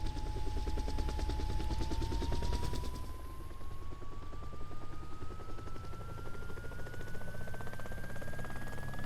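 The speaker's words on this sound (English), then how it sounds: "Don't worry about the startup noise of the chopper." A video-game helicopter starts up with a turbine whine that climbs slowly in pitch. A rapid rotor chop is heard at first and then settles into a steady mechanical drone.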